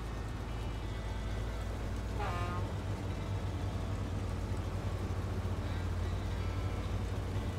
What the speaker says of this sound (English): I like honking the horn.